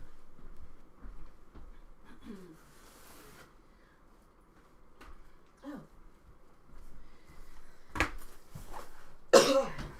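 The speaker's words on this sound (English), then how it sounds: "I'm sorry, I'm coughing." A person coughs a few times during a casual chat, a couple of sharp bursts near the end stand out over a quiet background with faint rustling and soft handling sounds.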